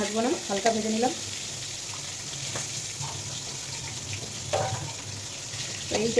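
Prawns lightly frying in oil in a home kitchen, a soft continuous sizzle with occasional clinks and scrapes of stirring, fairly quiet, with brief bursts of a voice at the start, middle and end.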